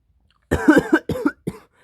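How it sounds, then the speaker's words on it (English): A single close cough in three quick bursts, loud and sharp, with silence before and after. "Coughing and stuff."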